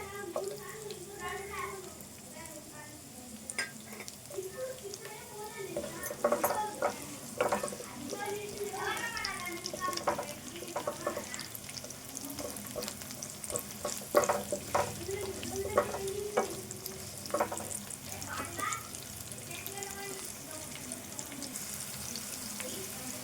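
Onions and spices frying for a chicken and brinjal curry, a continuous sizzle broken by frequent clattering stirs, with a voice talking over much of it.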